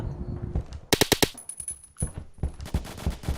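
Automatic weapon fire from the online shooter Phantom Forces: a tight burst of four or five rapid shots, then scattered further bursts over low background game noise, fairly close and loud with no talking.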